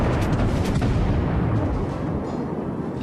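Warship main guns firing in World of Warships, with the cruiser Cleveland facing the battleship Kaiser: a dense, sustained rumble with sharp blast onsets in the first second, loud and close and fading slightly toward the end.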